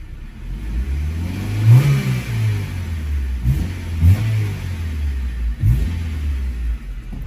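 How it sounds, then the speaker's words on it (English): A 1995 Honda Civic fitted with a Megan Racing header revs up repeatedly, several rising bursts of engine roar swelling over a steady close rumble. "I'm gonna do a couple revs up and see what she sounds like"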